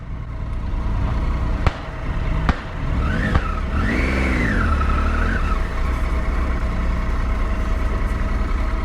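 Sports cars at a motor show at RaceWay Gardermoen in Oslo, Norway: loud continuous engine roar with a revving car sweeping up and down in pitch midway, plus sharp bangs and tire noise, no talking.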